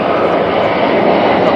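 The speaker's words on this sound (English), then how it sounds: "Pause, we have a plane going over." A fixed-wing airplane passes overhead outdoors during a plumbing cleanout inspection, its loud, broad engine roar steady and close, filling the whole moment without pause.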